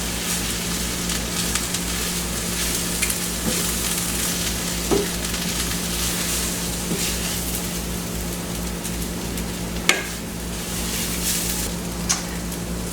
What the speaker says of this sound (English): we're going to stir and cook this for about a minute